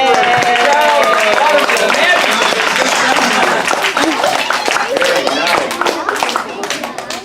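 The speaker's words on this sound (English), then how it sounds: "You have to give a big applause for it." An audience applauds a magic trick with loud, dense clapping that fills the room, voices mixed in, before the clapping gradually thins and tapers toward the end.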